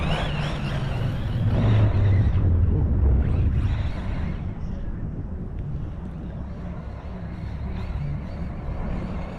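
Losi 8ight-E electric RC buggy on a 6S battery, its motor whining and surging as it runs at a distance, with rumbling drive noise and wind buffeting the microphone, fading and rising as it passes.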